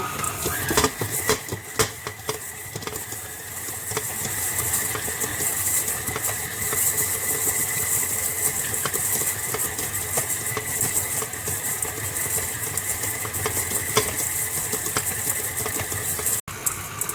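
Hot cross bun dough being mixed, giving a steady, loud whirring drone with a faint constant tone that runs unbroken for the whole stretch. No one speaks.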